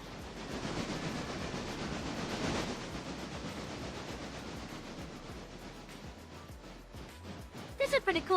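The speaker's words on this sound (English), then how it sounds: "pretty cool being able to watch our trains go and stuff" Trains rolling by in the Railroader game, a steady loud rushing and rumbling wash of rail noise that fades gradually toward the end, broken by a few short clicks.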